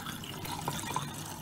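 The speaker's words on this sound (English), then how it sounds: "we're just going to run this under the tap and make sure that the water comes out of those holes on each propeller" Tap water runs steadily over a Siemens dishwasher spray arm, a continuous splashing wash of water at close range with faint dripping accents.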